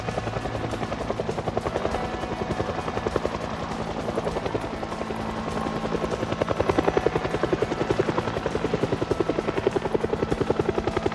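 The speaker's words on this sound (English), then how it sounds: "Helicopter," A helicopter passes overhead in Project Zomboid, its rotor beating in a fast, even chop that stays prominent and swells slightly as it draws closer.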